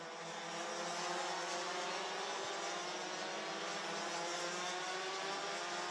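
DD2 racing karts on track at Genk during a Master prefinale, a faint, steady, high-pitched engine whine that stays constant as the karts run, with no talking.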